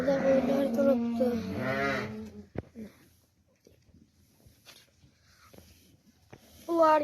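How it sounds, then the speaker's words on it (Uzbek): Sheep standing in farm pens give a few clear, nearby bleats at the start and again at the end, with quieter shuffling and faint noises in between. "Qo'ralarda qo'ylar turibdi."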